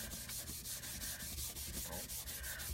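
Cardstock being wiped with an Embossing Buddy powder pad, a close, soft rapid back-and-forth rubbing with a quick regular rhythm, alone and fairly quiet.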